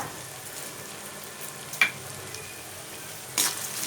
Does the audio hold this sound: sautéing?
yes